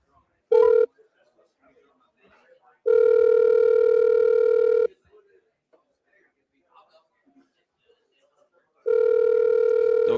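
Outgoing telephone call ringing back in three long tone bursts with silent gaps between them, loud and clear with no talk over the rings.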